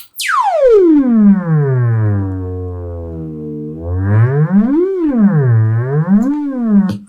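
A DIY function generator kit puts out a sine wave tone that sweeps sharply downward in pitch, holds low, then wobbles up and down in smooth swoops, loud and clean with no talking.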